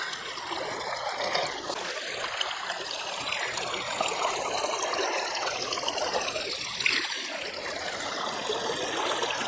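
Water rushes steadily through a gold-prospecting river sluice, a dense, even splashing flow heard up close for the whole stretch with no speech.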